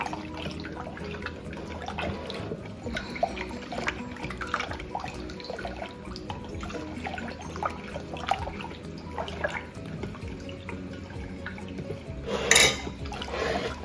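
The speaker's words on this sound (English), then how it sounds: "Let's go ahead and pour this in here." Hot pickling liquid poured from a pot into a jar, a steady low splashing and trickling stream lasting over ten seconds, with a brief louder clatter near the end.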